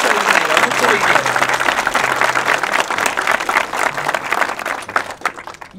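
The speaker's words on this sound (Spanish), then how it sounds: "En este super club acuático, Dionis, un aplauso para mi inversión, por favor." Studio audience applause at a live comedy show set at a water club pool, loud continuous clapping with crowd noise and some voices mixed in, fading slightly toward the end.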